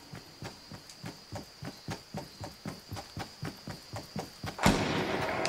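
An enemy weapon fires in the Fortnite video game, a steady series of sharp evenly spaced shots about three per second, ending in a louder burst of noise.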